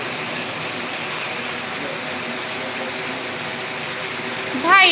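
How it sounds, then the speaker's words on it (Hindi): An air cooler runs steadily in an indoor room, giving a loud, even whooshing roar that fills the whole stretch, with a short brighter sound rising near the end. "ये तो इतना शोर है कूलर का इस वजह से"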